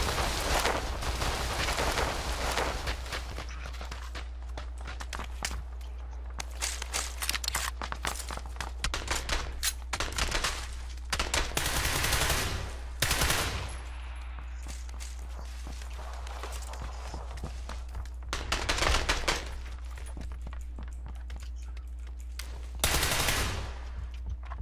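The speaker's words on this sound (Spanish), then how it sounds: "tiros" Gunfire in the video game PUBG, with repeated bursts of automatic and single shots at varying distance, heard among footsteps over a constant low hum.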